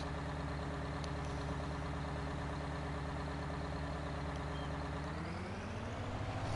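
The biggest tractor in the world in a video game runs with a continuous, loud, heavy engine drone, its low rumble holding steady before shifting slightly in pitch near the end.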